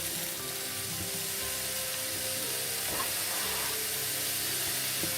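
Chicken soya pancake sizzling and frying on a hot tawa, a steady close crackle with faint kitchen clatter and no talk.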